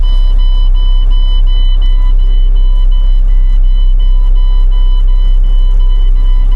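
A truck's low air pressure warning beep sounds as a steady, continuous tone over a loud idling engine rumble, holding unchanged throughout while air pressure builds toward 60.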